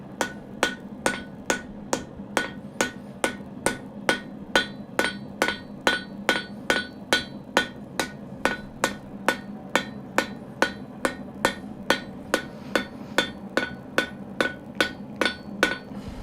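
Steady hammer blows on metal while bevelling it, a long even series of about thirty sharp ringing strikes at a regular pace, close and alone with no talk.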